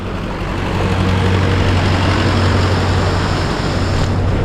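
Tractor engine running on a flooded, waterlogged road during monsoon flooding in Vasai-Virar near Mumbai, a steady low diesel drone with a constant hum, close and continuous.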